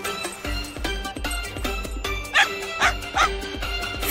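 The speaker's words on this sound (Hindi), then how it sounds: "टॉर्च बदमाश कुत्ता।" A cartoon dog yips and barks several times over busy music in an animated kids' show about animals and trucks, the barks short and bright, clustered in the second half.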